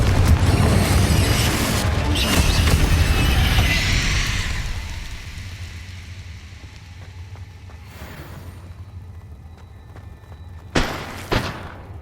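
A Confringo explosive spell going off in the wizarding game Hogwarts Legacy: a loud, close blast roars and slowly fades over several seconds, followed later by a few fainter thuds and two sharper pops.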